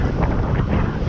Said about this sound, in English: God, it's blimmin' windy, I tell you.